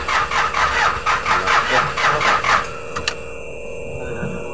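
A 2010 Mitsubishi L300 van with a weak battery cranks with about eight rhythmic starter pulses that stop abruptly without the engine catching, followed by a couple of short clicks and a faint electronic tone.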